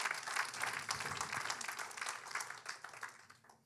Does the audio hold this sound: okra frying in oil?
no